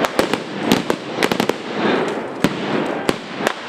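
Sharp gunshots crack out one after another at irregular intervals, some in quick bursts, over a steady outdoor background murmur, during a military-history club battle reenactment.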